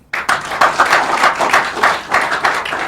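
An audience claps steadily at a public gathering in Nigeria, a dense, close wash of many hands that starts abruptly and keeps up without pause.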